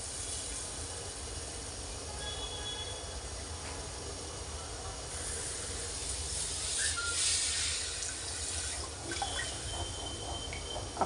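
Tempering for sambar hisses and sizzles as it goes into a pressure cooker on a gas stove, a steady broadband hiss that swells louder midway through.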